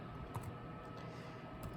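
Soft, quick typing on a computer keyboard, with faint clustered key clicks close by against a quiet background.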